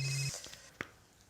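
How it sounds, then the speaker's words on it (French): A mobile phone rings indoors, a steady electronic ringtone tone holding for a moment and then cutting off, followed by a few faint knocks and a short click nearby. "Il y a un portable qui sonne."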